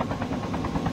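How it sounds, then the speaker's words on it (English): Helicopter in the Call of Duty video game, a steady low rotor chop and engine drone with pulsing beats throughout, moderately loud and continuous. "Oh yeah, helicopter, I'm about to steal it from you."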